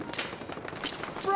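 Gunfire in a Battlefield 6 match: a rapid, fairly faint spatter of shots rattling in quick succession, heard over a moment of game noise without any voices.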